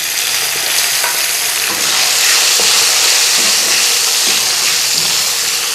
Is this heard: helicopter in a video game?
no